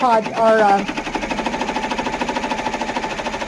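A Brother PR1055X embroidery machine stitches a placement line for in-the-hoop Halloween coasters, a fast steady mechanical needle rattle repeating several times a second after a brief electronic beep, close and moderately loud.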